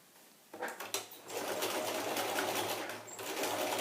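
A sewing machine stitches a fabric face mask in a quick, steady run close by after a brief start, with no talk over it.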